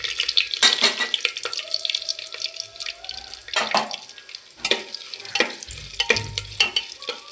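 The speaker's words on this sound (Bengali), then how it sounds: "এবার আমি আলুগুলোকে ভেজে নিচ্ছি।" Potatoes and whole spices fry in oil in a home kitchen for egg biryani, with sizzling bursts, clattering stirs against the pan and a faint running-water hiss, close and intermittent.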